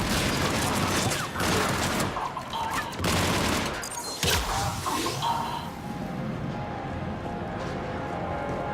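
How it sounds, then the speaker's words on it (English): Heavy cannon blasts and explosive booms roll out in a loud barrage in Mass Effect 3, with mechanical clatter and crashing debris amid the din. "Those cannons have to be stopped."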